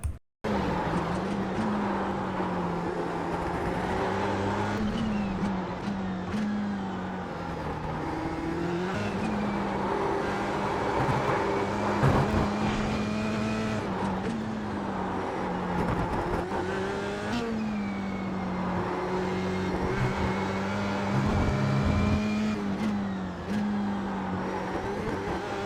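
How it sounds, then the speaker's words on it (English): Race car on a fast lap in the iRacing sim, steady loud engine drone with gear changes and rising, falling revs through corner entry, mid-corner and exit, with faint tire scrub and squeal under it, no talk. "I'm gonna play now the faster lap. Be mindful on the tire noises."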